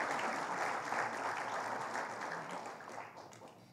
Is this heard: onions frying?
no